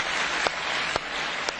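A European Parliament chamber bursts into sustained applause after a vote, a dense, even wash of many hands clapping that continues steadily throughout.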